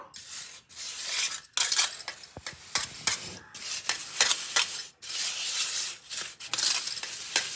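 Sugar and flour being sifted through a metal strainer into a single bowl for a celebration cake, giving close, repeated scraping, rubbing and tapping with short pauses between strokes.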